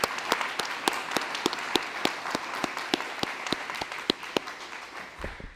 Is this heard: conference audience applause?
yes